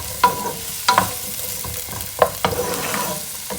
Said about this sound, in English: And then goes in roughly chopped 2 onions. I'm going to cook this for around 10 minutes